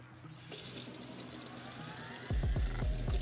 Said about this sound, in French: C'est de l'eau froide qui sort du robinet